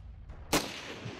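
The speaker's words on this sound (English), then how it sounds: "Just threw a hand grenade." A hand grenade blowing up in the Ravenfield shooter game, a single sharp blast with a short decaying rumble, fairly faint overall.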